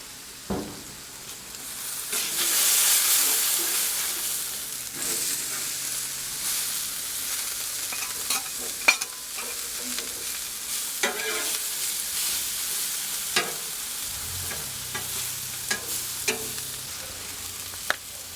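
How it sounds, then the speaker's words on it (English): Vegetables for fajitas sizzle on a Blackstone griddle, a continuous frying hiss with a louder burst early on and scattered scraping taps from a spatula, close and without talk. "let's start to grill our veggies"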